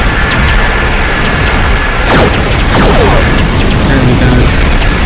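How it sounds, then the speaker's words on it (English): Torpedoes firing and exploding in the Star Trek Online space combat game, rumbling booms and descending whooshing launch sweeps over a dense, loud sci-fi soundscape, a burst near the middle and another shortly after. "Time for a good torpedo shooting."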